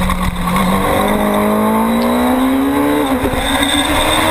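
Superstock racing motorcycles on a race track in the last lap of a novice open race, engines screaming loud and sustained with a rising whine as a bike accelerates past, no voices.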